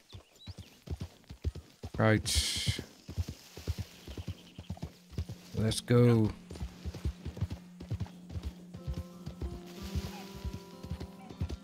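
Hooves clip-clop steadily at a walking pace from a horse in the Red Dead Redemption 2 video game, a regular rhythm of close, crisp hoof strikes running under brief bits of talk and a couple of louder vocal bursts.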